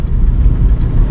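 A Tata Safari Storme engine runs steadily with a low, continuous rumble, close and fairly loud, no talk over it.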